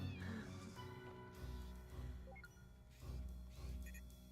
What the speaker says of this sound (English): Cat joined the party.